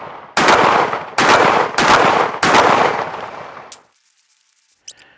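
Four loud, sharp blasts from a Mossberg 940 SPX shotgun firing Hornady slugs at 25 yards, spaced about a second apart and each trailing into a brief echo, then near silence with one faint click at the end.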